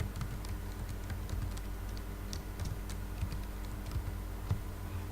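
Typing on a computer keyboard to enter data, a quiet, close run of irregular key clicks and taps that goes on throughout with no talking.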